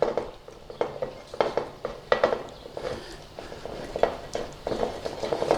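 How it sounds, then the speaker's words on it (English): Butter being smeared with a utensil around the bottom of a baking dish for bread and butter pudding, giving a series of short, close scraping and tapping strokes at an irregular rhythm, with no voices. "So get your butter in, nice little smear around in the bottom of there."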